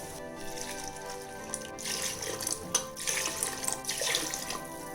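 Water pours into a pot of mutton pulao in a continuous splashing stream that swells and surges in bursts, with a few clinks from the pot.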